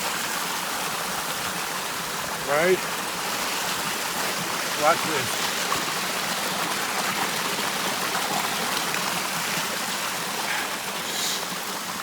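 A brook flowing steadily as a broad, continuous wash of running water, with a person talking briefly over it.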